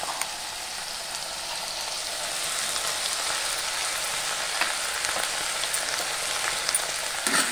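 Chopped banana flower sautés in a pan with a ground onion and coconut paste, giving a loud, continuous crackling sizzle that holds steady throughout with faint stirring.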